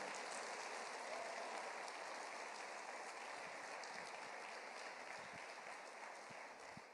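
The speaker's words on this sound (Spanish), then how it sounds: "Denle el aplauso más fuerte al Señor" A church congregation applauds for the Lord with a dense, continuous wash of clapping that holds steady for several seconds, heard from a distance and fairly faint, tapering slightly at the end.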